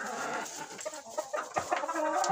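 Pushkin breed chickens on a small farm cluck and chatter in short, irregular bursts, fairly close and moderately loud, with no one speaking.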